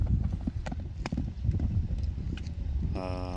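A horse's hooves clip-clop in a quick, steady rhythm as it is ridden at a livestock market, close and clear, ending with a short tonal buzz.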